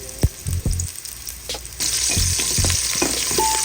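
Garlic, onion and ginger sauté in a pan for a vegetable mung bean stew, with a loud steady sizzle broken by close knocks and scrapes of stirring, and no talk.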